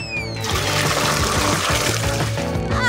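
Water pours steadily for nearly three seconds, a continuous trickling flow that is loud and close, with no talk over it.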